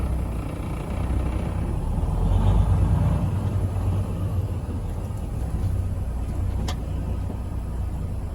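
A truck's engine rumbles steadily as it pulls away in gear, swelling briefly then settling into a constant low drone with no talking.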